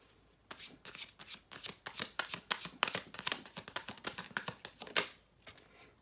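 Tarot cards are shuffled by hand in a quick series of crisp riffling and slapping bursts, close and fairly quiet, with no talking.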